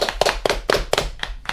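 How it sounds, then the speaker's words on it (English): Handful of separate, sharp hand claps at a quick uneven rhythm, from the crowded Flourish and Blotts bookshop scene in Harry Potter and the Chamber of Secrets, close and fairly loud. "The camera pans up as the crowd applauds."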